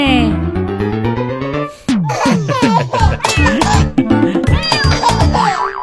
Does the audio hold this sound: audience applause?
no